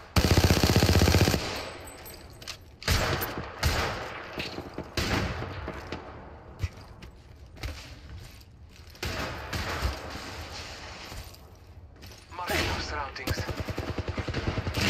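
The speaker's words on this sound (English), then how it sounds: "Danger. Getting shot at." Gunfire in Apex Legends during the Dark Depths event, dense bursts of automatic fire and sharp shots in rapid succession, loud and close, with scattered impacts and brief gaps between volleys.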